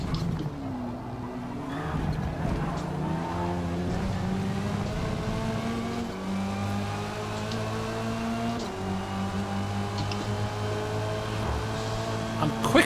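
Race car engines in Forza Motorsport, a close revving drone climbing and dropping through gear changes, with brief tire noise and another car passing, while someone talks over it.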